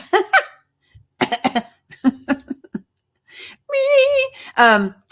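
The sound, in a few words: cough into the elbow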